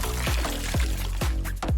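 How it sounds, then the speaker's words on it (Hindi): Milk poured into a blender, a close liquid glugging in a few repeated surges over less than two seconds with no one talking. "पहले दूध लो और ब्लेंडर में डालो।"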